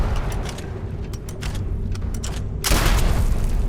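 Gunfire in the video game Starfield, a run of sharp close shots in quick bursts, followed by a heavier, louder blast that fills the end.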